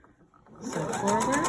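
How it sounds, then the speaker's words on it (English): A sewing machine starts up after a brief quiet moment and runs in a fast, close, rapid stitching whir as it sews slowly up to a pin. "Now this is sewing right up to the pin, nice and slowly."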